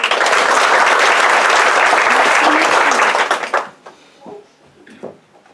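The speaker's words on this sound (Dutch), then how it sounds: "Dat applaus klinkt al heel aardig, maar het kan nog beter." Audience applause at a primary school group 8 musical, loud dense clapping for about three and a half seconds that then stops abruptly, leaving faint voices and small room noises.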